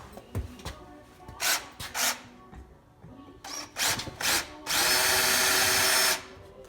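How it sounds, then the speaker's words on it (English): A power drill whirs in short bursts, drilling out metal rivets on a Peterbilt 359 roof cap several times, ending with one longer, louder sustained run. "I'm gonna drill these out"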